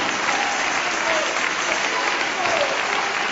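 Church congregation applauding Jesus during a testimony service, a thick, continuous wash of many hands clapping at full loudness, with faint voices blended underneath.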